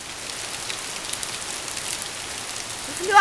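Heavy rain pattering on a surface, a dense continuous hiss of drops, steady and fairly loud throughout, no voices.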